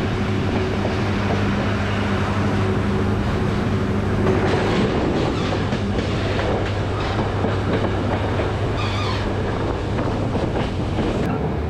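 A moving passenger train pulls out of Jaffna, giving a steady, close rumble with rhythmic wheel clatter on the rails and some wind buffeting. The sound runs continuously with no talk.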